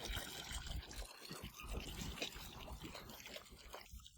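A waterfall in the rockery of Oshawa Valley Botanical Garden, built in 1980, gives a soft, steady rush and trickle of falling water, faint and continuous from a moderate distance.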